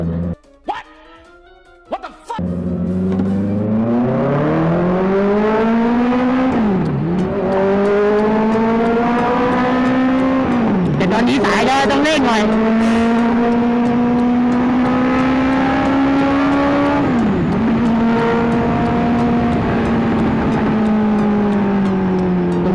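A big-bike motorcycle engine drones loud and close while riding at speed, its pitch climbing steadily then dipping at several gear shifts before rising again, with rushing wind beneath.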